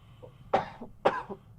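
Three sharp, close coughs in quick succession, each a harsh burst about half a second apart.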